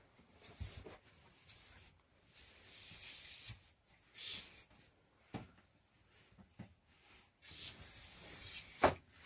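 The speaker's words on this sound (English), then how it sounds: "Spray the sides." Foam cleaner sprayed in short hissing bursts onto the sides of a surface during a cleanup, with several separate squirts spaced across a fairly quiet scene.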